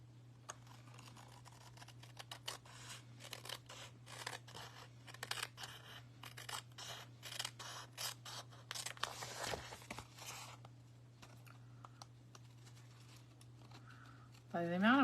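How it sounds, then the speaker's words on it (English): Scissors snip through a paper envelope being trimmed for a handmade quilt-style card, a long run of quick, close, crisp cuts over a steady low hum, with a brief voice near the end. "And don't worry if you cut into the envelope a little bit."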